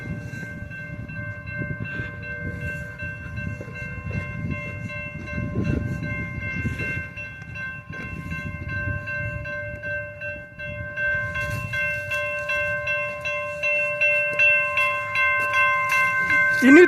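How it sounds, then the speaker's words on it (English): A train creaks and rumbles past close by, with a sustained horn tone over the rolling noise and louder rhythmic clatter building toward the end. "You need to get out. The train is moving."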